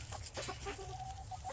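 A roundhead gamefowl hen clucks in short, uneven bursts close by, with a steady low hum of a farmyard or barn underneath.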